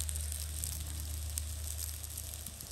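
Eggs fry over a wood fire in a Solo Stove fire pit, giving a faint, steady sizzle with soft crackles close by and no voices.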